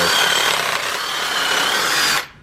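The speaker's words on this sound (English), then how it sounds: "So drill a hole and then fit it where the hole is." A power drill grinds steadily into a car body with a harsh, continuous whir for about two seconds, then cuts off abruptly.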